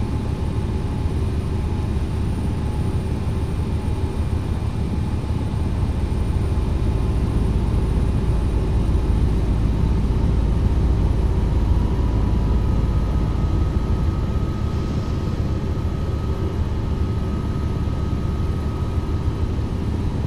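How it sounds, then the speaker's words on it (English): A helicopter flies steadily in a Flight Simulator X rescue mission, giving a constant, loud droning rotor and engine roar with no change or talking throughout. "slow the helicopter and aim to land on the helipad to complete this"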